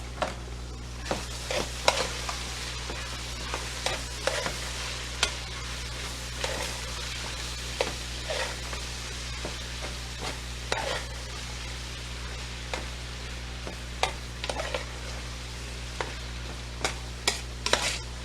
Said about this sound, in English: So I'm gonna add my onions to this.